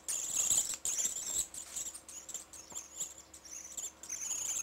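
High, thin chirps repeat irregularly from a small bird, fairly faint, with light rustling in the background and no talking.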